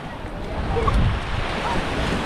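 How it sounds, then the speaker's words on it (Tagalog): Waves wash onto a tropical beach in Siargao under a steady wash of surf and wind buffeting the microphone, with a soft swell in the middle. "Tayo sa tabing dagat."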